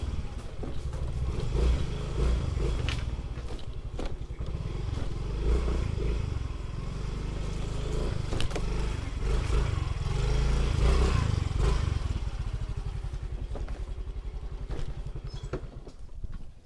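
A motorcycle engine drones steadily throughout a ride, close and rumbling with wind buffeting, the throttle swelling slightly now and then.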